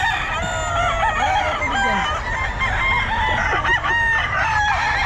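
Several young gamecocks (stags) crow repeatedly and overlap at a gamefowl market in Bocaue, Philippines, some close and loud, others farther off, with occasional clucking between the calls.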